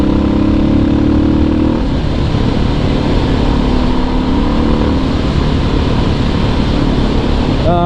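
A Suzuki DR650 motorcycle with an aftermarket exhaust drones steadily and loudly at close range, with a deep, throaty exhaust note and a slight change in pitch partway through.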